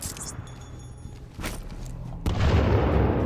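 A grenade blows up in the Titanfall 2 multiplayer shooter, a deep, heavy boom erupting late and rumbling on after softer game sounds and a brief thump.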